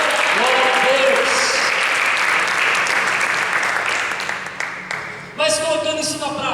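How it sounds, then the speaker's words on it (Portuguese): A church congregation claps loudly and continuously during a Pentecost (Shavuot) service, the dense applause easing near the end before voices and music-like tones rise. "Você pode aplaudir ao Senhor?"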